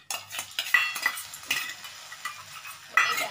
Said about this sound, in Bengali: ডিমটা আমি দিয়ে দিচ্ছি, দেখো আস্তে আস্তে দেবো